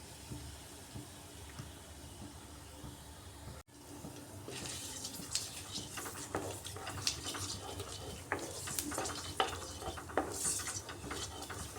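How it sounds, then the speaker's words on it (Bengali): Black cumin seeds and bay leaf fry in hot oil as a tempering. After a brief cut, a dense crackling sizzle builds and grows louder, with occasional utensil clinks and scrapes. "ফোড়নটাকে একটু ভাজা ভাজা করে নিচ্ছি।"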